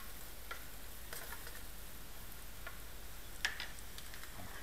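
Apples caramelising in a pan for a braided puff pastry apple tart, a faint, steady frying sizzle with soft stirring scrapes and one brief tick near the end.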